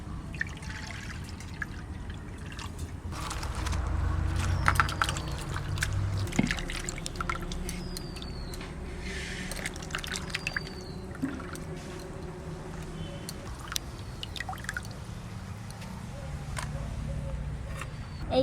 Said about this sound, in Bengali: কচুর ডেগাটা ধুয়ে নেব।